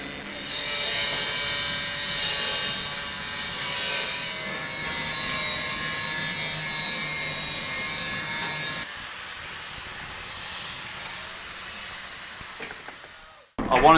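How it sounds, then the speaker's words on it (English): An angle grinder bevels a 45-degree edge on a steel boat hull plate, whining steadily and loudly for several seconds before dropping off to a quieter hiss and a brief clatter, with faint speech in the background. "Jason's going around with a grinder and putting a 45-degree angle on the hull"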